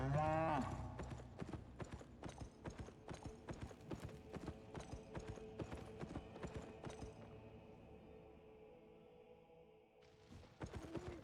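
Rhythmic clip-clop of horse hooves from the online game Albion Online, steady close hoofbeats with a brief neigh at the start and a short pause near the end.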